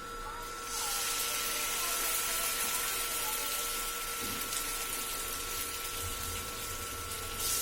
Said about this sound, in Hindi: पानी डाल देंगे इसमें।